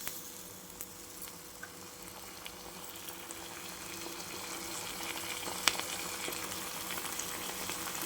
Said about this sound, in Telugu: వేరే బాండ్లీ పెట్టుకొని దాంట్లో ఇప్పుడు ఫ్రై చేస్తున్నాను నేను